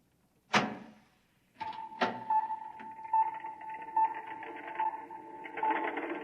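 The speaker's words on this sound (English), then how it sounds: "Open the door." A door opens as a sound effect in a 1956 radio drama. Two sharp clacks are followed by a steady mechanical hum with faint rhythmic ticking, and no voices are heard.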